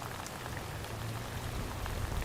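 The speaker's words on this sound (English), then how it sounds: "how hard and how fast the rain has been coming down" Heavy rain pours down steadily in a dense, unbroken hiss during a stormy tornado warning, loud and close with no voices.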